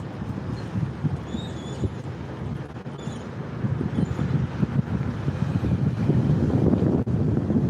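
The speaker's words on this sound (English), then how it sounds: "that wind's blowing hard" Hard wind blows outdoors, buffeting the microphone in a continuous low rumble that gusts and grows stronger toward the end, with no voices.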